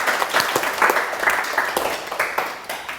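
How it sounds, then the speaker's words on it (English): A live audience at a talk on understanding men gives a round of clapping, with distinct hand claps standing out in an uneven rhythm against a fairly loud wash of applause that thins slightly toward the end. "Can we have a round of applause for Lance?"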